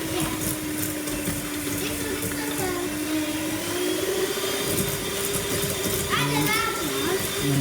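A handheld electric mixer beats butter and sugar for cupcakes in a home kitchen, a steady whirring motor hum running throughout beneath continuous chatter from an adult and children.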